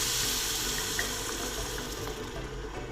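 Wine poured into a hot pan of farfalle bolognese sauce over high heat gives a steady, close-up rushing sizzle and splash that holds at even loudness for the whole moment, with no voices.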